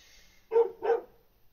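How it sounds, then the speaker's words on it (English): A dog gives two quick barks in a row, faint and somewhat distant, against a quiet background. "Dog's barking."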